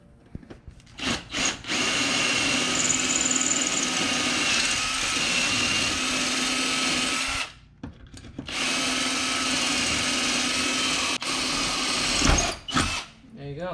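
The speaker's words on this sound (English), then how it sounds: "what we're going to do is we're going to drill these two rivets out." Power drill boring out two rivets on a wing bracket for a ZR1-style rear wing on a C7 Corvette, a loud steady whine running in long bursts with brief pauses and a short restart near the end.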